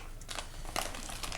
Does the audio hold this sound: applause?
no